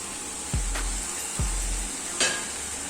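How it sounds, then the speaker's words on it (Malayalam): Sliced beef drops into a hot pan for an Indo-Chinese chilli beef and is stirred. It gives two sharp splatters and a third clatter over a steady background sizzle, with no talk. "നമ്മളിത് സ്ലൈസ് ചെയ്ത് വെച്ചിരിക്കുന്ന ബീഫ് ഇതിലേക്ക് ഇട്ട് കൊടുക്കുക."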